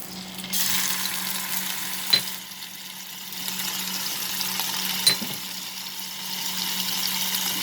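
Ginger garlic paste sauteing in hot oil with kala jeera for a pointed gourd dish, a constant soft sizzle with a low hum, two sharp spoon clinks, no talking.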